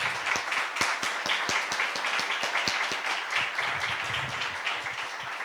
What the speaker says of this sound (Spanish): ¿Qué les parece si damos un aplauso?